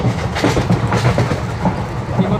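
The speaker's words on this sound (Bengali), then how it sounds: "আমাদের ট্রেন স্টেশন এগিয়ে চলেছে আমাদের গন্তব্যর দিকে" A passenger train rolls along after leaving a station in West Bengal, heard from inside the carriage as a steady loud rumble with soft rhythmic clicks of the wheels over the rail joints.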